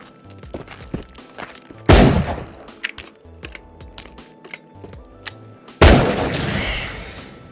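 Sawed-off shotgun blasts in the Into the Radius video game, two loud booming shots a few seconds apart with long noisy tails, between clanking mechanical handling sounds and reloading clicks.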